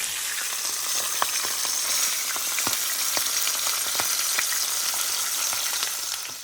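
Jamaican brown stew fish fries in hot oil and is flipped over, a steady close sizzle with sharp crackles and spits scattered throughout, no talking.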